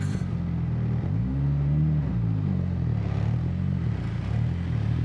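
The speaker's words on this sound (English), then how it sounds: "There's a lot of traffic." Road traffic on a wet, rainy day: a car engine hums and revs nearby, its pitch rising and falling over a continuous low rumble.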